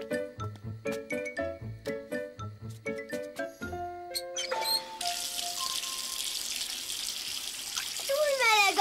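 Bathwater running from a tap to fill a tub, a steady rushing splash that starts partway through, following a ding-dong jingle, with a voice over the water in a cartoon scene.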